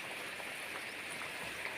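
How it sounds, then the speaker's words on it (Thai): Steady rain falling, a dense even patter with no break, fairly loud and close, with no voices. "ฝนตกครับพี่น้อง"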